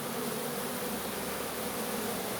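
Honeybees crawl over a spread-out hand, giving off a dense, unbroken buzz that stays close and even throughout, with no voices.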